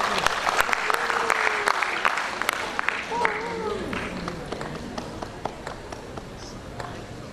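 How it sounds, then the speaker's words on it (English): An audience at a campus event claps in a sustained burst of applause that slowly thins out, with voices mixed in. "Is that clap for making this a greener campus or what?"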